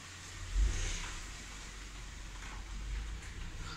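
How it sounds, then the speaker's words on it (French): A car drives past just outside a garage, a low rumbling swell that peaks early, eases, then rises again, steady and moderately close with no talking over it. "il y a une voiture qui passait en même temps"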